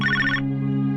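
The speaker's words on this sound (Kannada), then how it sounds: "ಇನ್ನೂ ರಿಂಗ್ ಆಗ್ತಾನೆ ಇದೆ." A telephone's trilling ring sounds briefly and then cuts off, leaving a steady sustained musical tone underneath.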